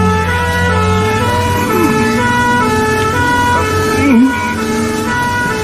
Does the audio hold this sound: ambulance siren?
yes